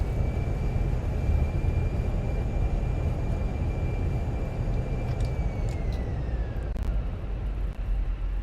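Fenix A320 airliner rolling down the runway at Dublin Airport after landing, heard in a flight simulator: a steady, loud engine and wind rumble with a sustained whine that slowly drops in pitch as the jet decelerates.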